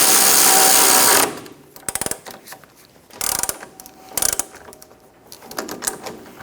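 A ratchet works a control arm nut on a 2003-2007 Honda Accord, with several short bursts of rapid clicking spaced apart after an opening stretch of loud broadband noise.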